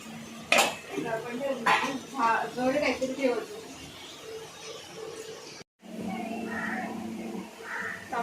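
Metal pot lid and utensils clatter and clink close by in a home kitchen while making chicken biryani, a few sharp knocks among ongoing talk.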